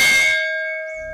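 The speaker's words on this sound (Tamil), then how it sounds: "மணி சத்தமா அடிக்க தொடங்குச்சு." A temple bell is struck once, loud and close, its bright metallic ring sustaining and slowly fading into near-silence, with faint rustling at the very end.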